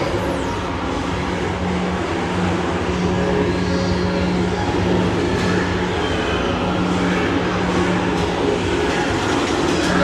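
The Space Mountain ride vehicle at Magic Kingdom rumbles and clatters steadily, like a train on rails, loud and continuous throughout with a constant low hum beneath it and no talk.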